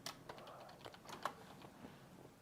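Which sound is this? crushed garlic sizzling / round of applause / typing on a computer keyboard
typing on a computer keyboard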